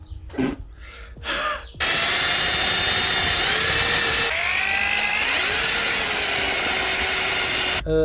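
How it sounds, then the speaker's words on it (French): An angle grinder grinding metal on a cafe racer motorcycle, starting after a few short bursts of noise and then running as a loud, steady high-pitched whine with shifting pitch as it bites the workpiece. "Il faut meuler ça plus un poil plus."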